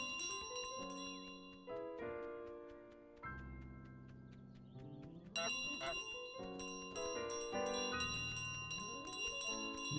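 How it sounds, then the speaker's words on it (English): Small bells ringing in Untitled Goose Game, a clear run of bright, sustained chimes with overlapping tones and harmonics, loud and close, continuing through the whole stretch with a few shifts in pitch. "Small bell."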